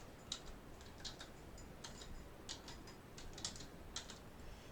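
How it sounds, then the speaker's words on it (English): Quiet, steady typing on a computer keyboard, with light clicking keystrokes in uneven bursts over a soft background hiss, no talking. "I'm going to be typing."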